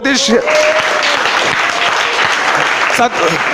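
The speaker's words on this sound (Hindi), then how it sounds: "सभी लोग तालियां बजाते सतीश के लिए" At a school debate competition, an audience claps steadily for the winner, a dense burst of hand claps filling the moment while voices briefly speak over it at the start and near the end.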